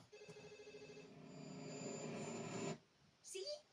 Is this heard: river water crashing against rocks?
no